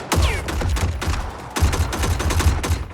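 Continuous automatic gunfire from a gun in the fighting game Mortal Kombat 11, loud rapid bursts firing in a steady stream with a short break midway and no speech.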